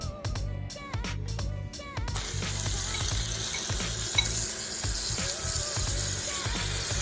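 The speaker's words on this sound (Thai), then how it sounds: "ทำโตโต สตรอเบอรี่ชุบแป้งทอด" Whole strawberries coated in batter deep-fry in oil, with a busy bubbling sizzle that swells after a brief quieter start, broken by clinks and bumps, close and continuous.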